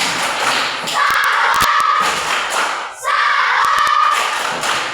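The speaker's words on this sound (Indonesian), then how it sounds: "kita tepuk salut terus untuk kita semua" A group claps in a rhythmic salute at the close of a gathering, dense loud thumping claps in two bursts with a short pause between, alone without talk.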